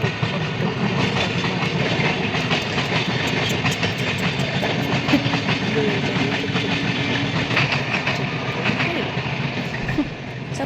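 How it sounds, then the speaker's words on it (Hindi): Train rolling past on rails at night, a continuous loud rumble and rattle of wheels and carriages with faint clicking, steady throughout with no pauses. "और ये ट्रेन की लाइट दिख रही है और ये जा रही है ट्रेन।"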